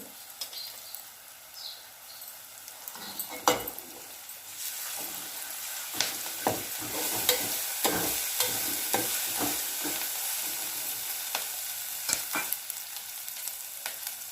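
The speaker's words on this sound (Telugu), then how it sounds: "ఇందులో పసుపు అల్లం వెల్లుల్లి పేస్టు కరివేపాకు వేసుకొని అంతా కలుపుకోవాలి" Turmeric, ginger-garlic paste and curry leaves are stirred in a hot frying pan for a cabbage and moong dal curry, with a continuous quiet sizzle broken by repeated close scrapes and clinks of a spoon, and no voices.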